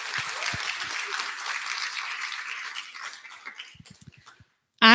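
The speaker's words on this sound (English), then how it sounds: "Give us a round of applause for our panelists." Audience applause for panelists at a climate policy discussion, a steady wash of clapping from a room of people that thins and dies away, followed by a brief burst of sound at the end.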